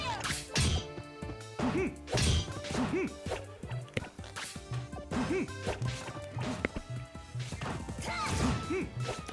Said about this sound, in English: Bombs are so good.